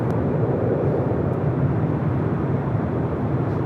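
An airliner takes off on runway 24 Left at LAX, its engines a steady, dense broadband roar that holds level throughout, heard from a distance with no voices.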